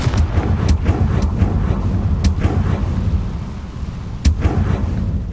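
Fiery Confringo blasting spell in Hogwarts Legacy, a series of sharp explosive cracks over a rumbling, dense game soundscape, with one stronger burst standing out near the end.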